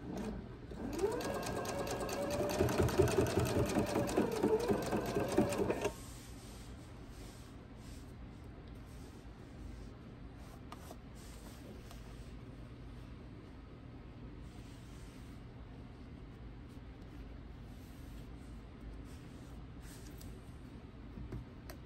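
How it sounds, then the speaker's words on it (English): A sewing machine stitches a quilt binding in a fast, loud burst for the first six seconds, then stops, leaving only quiet room tone. "Now I can take that clip off, and we'll go ahead and start quilting this."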